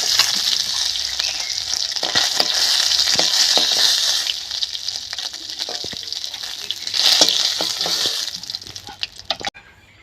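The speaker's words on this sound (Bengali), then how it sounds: "বাকি মাছ ভেজে নিচ্ছি" Pieces of shol (snakehead) fish frying in hot oil give a loud, steady sizzle with bubbling crackle and a few utensil clicks, easing near the end.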